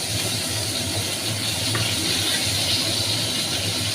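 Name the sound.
katla fish frying in oil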